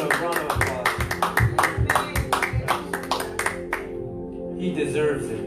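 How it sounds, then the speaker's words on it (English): A church congregation claps in quick, fairly close bursts of applause during a service, the clapping fading out near the end amid voices. "Can we give God a round of applause?"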